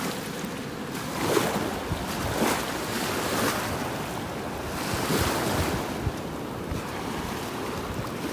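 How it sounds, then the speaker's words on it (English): Surf washing onto a beach shoreline in North Naples, Florida, where the waves churn up the water. Steady roaring wash with periodic swells breaking every couple of seconds, plus wind buffeting the microphone and no voices. "Waves have the water churned up just a little too much to see what's down here along the shoreline."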